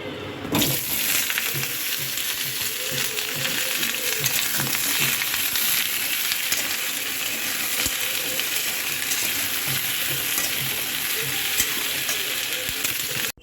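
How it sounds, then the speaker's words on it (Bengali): Pumpkin and potato fry in a wok in a home kitchen, a close, constant sizzle and crackle with occasional stirring clinks, no talk. "হয়ে গেলে যে বানানো কুমড়ো আলুটা ছিল ওটা কড়াইতে দিয়ে একটু ভেজে নিচ্ছি।"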